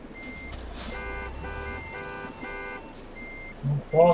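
Reversing beeps from a truck in Euro Truck Simulator 2 pulse in an even series of about four tones over a low engine hum, followed by a few brief clicks.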